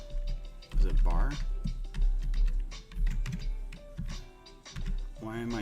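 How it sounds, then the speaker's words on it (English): Typing on a computer keyboard, rapid clicky keystrokes in uneven bursts heard close and clear, with a person talking over much of it. "Why am I typing in caps?"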